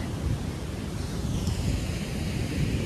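Ocean waves wash steadily onto a beach at Palomino, Colombia, a continuous broadband roar blended with wind buffeting the microphone, with no voices.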